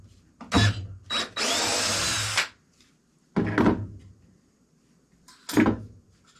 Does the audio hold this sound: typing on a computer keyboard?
no